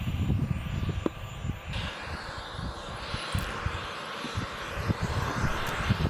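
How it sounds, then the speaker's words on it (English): A turbojet aircraft engine gives a loud, continuous roar with a rumbling low end and a faint high whine. The level stays steady throughout, with no voices. "It's like a turbo jet. Yeah, jet engine."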